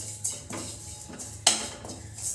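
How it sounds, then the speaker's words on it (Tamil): Neem flowers dry-roasted in a pan without oil over low heat: light scraping and tapping of a utensil against the pan, a few louder clinks, with no sizzle underneath. "ஸ்லோவாக தீ வச்சு எண்ணெய் இல்லாமல் அப்படியே வறுத்துக்கலாம்"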